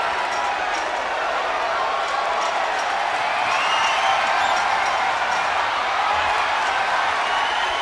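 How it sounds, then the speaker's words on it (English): Capacity arena crowd at a Hell in a Cell wrestling match in the WWE 2K26 video game, a steady, dense roar of murmuring and cheering that holds level throughout. "listen to this capacity crowd. The anticipation is electric in this building"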